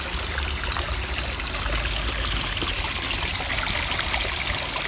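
Water drains out of a garden fish pond in a steady, broadband rush. The splashing trickle is close and continuous and is heard on its own.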